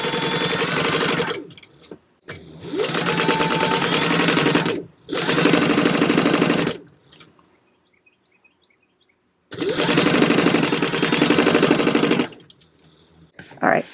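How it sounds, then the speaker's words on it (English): A sewing machine stitches a bag seam with a 3-stitch length, running in three loud, steady bursts of rapid whirring and needle chatter separated by quiet pauses. "I'm just sewing down."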